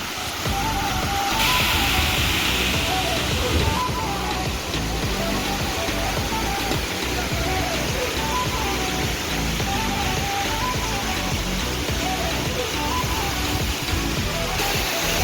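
Floodwater pours over from a village lake filled by heavy rain, a loud, unbroken rushing roar that stays steady and close throughout.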